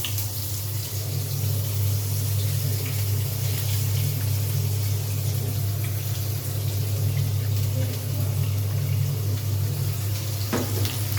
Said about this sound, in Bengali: পেঁয়াজটা ভাজা হবে।